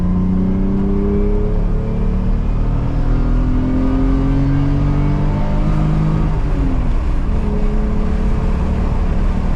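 A Toyota JZX100 Chaser with a swapped 1JZ-GTE turbo engine accelerates hard, its loud, steady engine note climbing in pitch through the revs, close and continuous with no voices.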